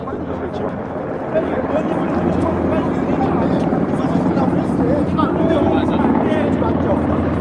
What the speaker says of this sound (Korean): 군사용 헬기로 보이는 헬기가 지금 저공 비행을 하면서